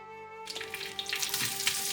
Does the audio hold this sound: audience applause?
no